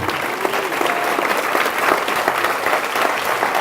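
A church congregation breaks into steady, dense applause that fills the room at an even loudness, with faint voices and scattered cheers mixed into the clapping.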